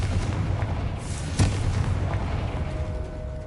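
A Confringo fire spell bursting in Hogwarts Legacy, one sharp explosive boom about midway through a short stretch of low rumbling game ambience.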